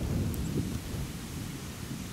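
On the ice of a frozen lake where pike are being caught, a rising wind rumbles and buffets steadily, a dull continuous roar with nobody speaking.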